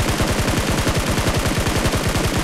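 Rapid automatic gunfire in a battle royale video game, a loud, close, evenly spaced burst of shots firing continuously at a fast rhythm with no talking.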